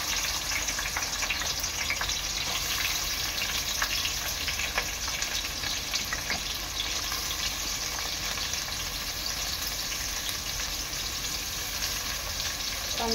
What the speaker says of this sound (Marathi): कांदा चांगला लाल होईपर्यंत शिजवून घ्यायचा आहे